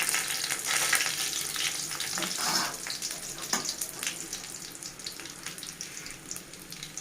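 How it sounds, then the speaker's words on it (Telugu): Dried red chillies frying in oil for okra rice give a close, crackling sizzle with sharp pops, louder early then easing off, with no one talking. "ఇప్పుడు మనం ఎండుమిర్చిని యాడ్ చేసుకుందాం."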